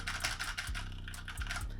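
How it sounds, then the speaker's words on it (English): Steady typing on an IQUNIX F96 wired/wireless keyboard, a close, busy run of key clicks and clacks with a few louder strikes, with no one speaking. "It's a wired/wireless keyboard and I have been using for 6 months now."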